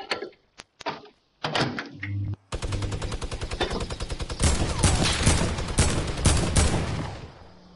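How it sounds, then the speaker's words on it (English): A minigun firing in Fortnite, starting with a few separate clicks and shots, then settling into a fast, steady stream of loud, closely spaced rounds that grows denser and heavier toward the end. "I have a minigun"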